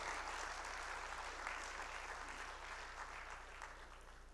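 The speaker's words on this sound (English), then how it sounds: "please give our sponsors and partners a very big round of applause" Conference audience applauding sponsors and partners at an opening ceremony, a soft, distant, steady patter of clapping in a large hall with a constant low hum underneath.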